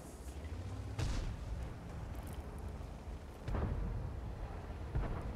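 Video-game gunfire from around a corner comes as a few dull, muffled booming shots spread across a few seconds over a steady low rumbling background.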